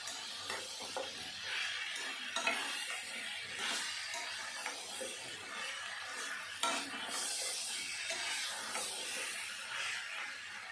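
A pot of soft, mixed vegetables with cumin powder is stirred and sautéed in hot oil, giving a steady sizzling hiss under repeated scraping strokes of a spoon against the pan.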